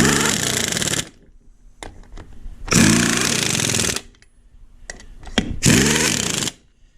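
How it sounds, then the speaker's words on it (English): An impact wrench tightening tire lug nuts fires in three loud, close bursts of rapid hammering, each about a second long, separated by quieter pauses with small clicks and handling noises. "you either tighten them with the impact wrench or you use the other kind of handheld wrench"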